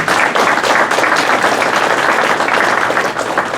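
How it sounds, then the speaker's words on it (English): Audience applause at a talk, continuous clapping from a sizable crowd that swells and holds at a loud, even level. "You should clap for him."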